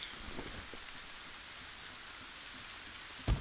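Steady rain hisses across the jungle in the survival video game Green Hell, a constant even wash with a faint thump near the end.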